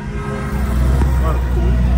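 Cars passing by in traffic give a low, continuous engine rumble close at hand, with a faint muffled voice present over the drone.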